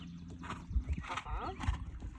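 Horse cantering in a riding clinic arena, its rhythmic hoofbeats thudding at close range in an uneven pattern, with an instructor talking over them.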